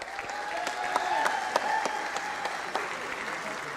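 Audience applause at a city council meeting honoring a state champion football team, steady crowd clapping with a few sharper nearby claps and faint voices mixed underneath.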